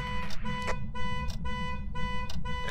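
A car alarm in the horror game Phasmophobia blares in repeated steady tonal bursts separated by short gaps, loud and droning over a low rumbling background.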